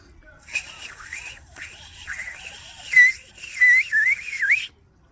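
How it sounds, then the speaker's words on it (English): A thin, wavering whistle made with the lips rises and falls in short tuneful phrases, with breathy airy noise between notes, close and fairly soft. "you're going to hear a whistle"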